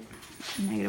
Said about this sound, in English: Oops, sorry about my dogs.